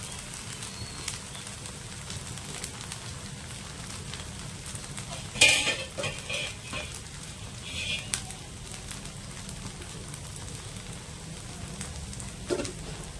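Fasting dosa frying in oil on a pan, a faint continuous crackling sizzle with a brief louder splash of added oil midway and a few small clinks.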